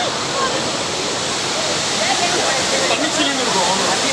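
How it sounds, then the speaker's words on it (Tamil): Chinna Kallar waterfall near Valparai, running with a modest flow of water, makes a steady, loud, unbroken rushing roar close by. "இதுதான் சின்ன கல்லாறு ஃபால்ஸு"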